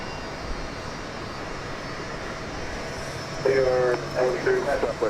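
A jet airliner lands and taxis at Dallas Love Field, its engines a steady broad roar in the distance, with a voice coming in over the noise toward the end.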